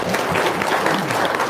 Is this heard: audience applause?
yes